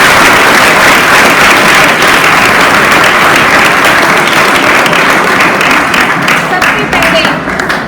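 Loud, dense applause from a large crowd of students and teachers at a Teachers' Day celebration, a steady roar of clapping sustained for several seconds and tapering slightly at the end.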